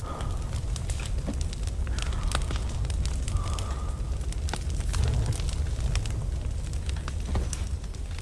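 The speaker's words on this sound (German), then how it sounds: "Dann kann ich hier gleich das Feuer entzünden." A campfire burns just after being lit in the survival video game The Forest, a steady roaring rush with scattered sharp crackles and pops throughout, loud and close with no speech.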